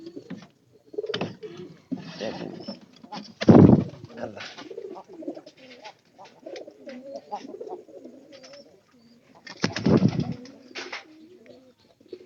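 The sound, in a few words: pigeons cooing in a pigeon house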